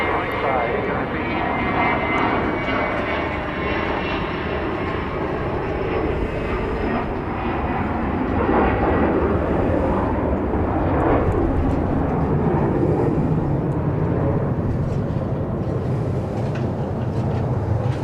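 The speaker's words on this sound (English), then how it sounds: "Cessna Citation 6 taking off." A Cessna Citation 6 jet takes off at Dallas Love Field, a steady loud roar of engine noise and rushing thrust lasting throughout, with faint voices underneath.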